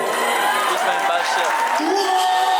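Wedding guests at a civil marriage ceremony cheer for the little sisters of the bride and groom, a dense, steady roar of voices, whoops and clapping that stays loud and close throughout, with talk mixed into the crowd.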